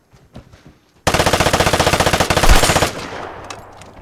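A PPSh submachine gun in a video game fires a rapid, even burst of about two seconds after a quiet lead-in, loud and close, then fades into a short tail.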